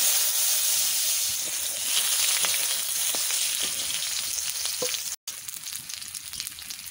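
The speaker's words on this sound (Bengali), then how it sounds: "আলু ভাজা করে নেব" Potatoes fry in hot oil in a wok with a steady, close sizzle and hiss throughout, a few soft clinks and stirs, and one brief dropout near the end. No one speaks.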